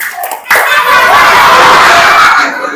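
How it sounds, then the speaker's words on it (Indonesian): A group of children claps hands together in rhythm while singing a song, loud and close, with sustained clapping and voices filling most of the clip after a quiet start. "Kalau kau anak soleh tepuk tangan"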